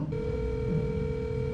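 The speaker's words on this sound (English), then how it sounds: "My phone's hooked up to my car. She's literally calling me." A steady electronic tone starts abruptly and holds, a phone ringing through a car's speakers, over low engine rumble as the car pulls into a car wash.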